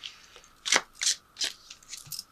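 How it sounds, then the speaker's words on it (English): Chakra clarity cards drawn during a tarot reading, giving several soft, quick card-shuffling rustles in a short uneven sequence, close and fairly quiet. "Let me throw a couple of these clarity cards. They are chakra cards."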